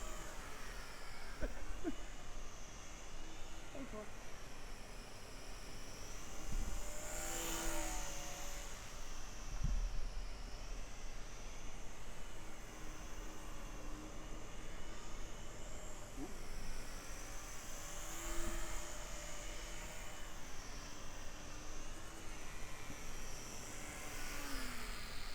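A small TopRcHobby 402mm mini P-39 RC model airplane flies overhead with a thin, high electric buzz that swells and fades as it passes repeatedly, faint and distant against outdoor background.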